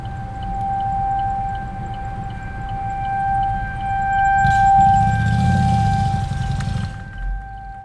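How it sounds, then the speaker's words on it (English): Tornado sirens wail in Kent County during a destructive severe thunderstorm warning on a storm chase, a sustained steady tone carrying loud and continuous, with a low rumble of a vehicle or wind underneath. "Tornado sirens going off in Kent County"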